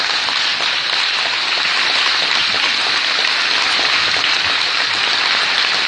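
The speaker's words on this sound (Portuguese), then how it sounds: "Vamos aplaudir a Jesus." A church congregation at a Manaus worship meeting claps in a loud, dense, unbroken roar of applause that fills the whole stretch at an even level, with no voices rising above it.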